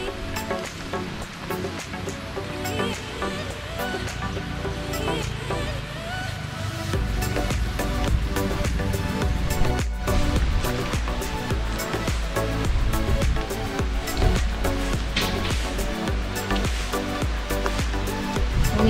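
A waterfall at Lan Sang National Park rushes as a steady, loud broadband roar, growing fuller partway through, with scattered clicks and knocks on top and no clear talk.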